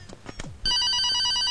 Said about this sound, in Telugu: నాకు ఫోన్ వచ్చింది.